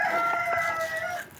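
A rooster crows loudly and close on a chicken farm, one long drawn-out call that fades at the end.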